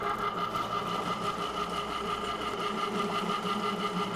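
A mixer blending a large batch of dyed slime gives a steady, continuous mechanical whir with a faint rhythmic pulse, close and constant throughout.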